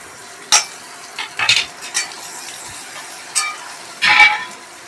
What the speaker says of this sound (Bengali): একটু আদা ঘষে দেব।